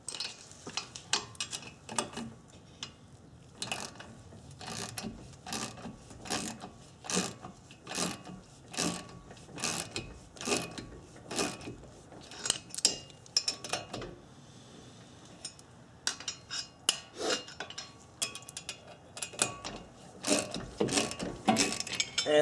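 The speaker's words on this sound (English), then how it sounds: "So we'll slowly drive in these 2 bolts and the rotor will hopefully" A ratchet wrench drives 8mm bolts into the hub to push off a Subaru brake rotor, clicking in rapid irregular bursts close by, with brief pauses between strokes.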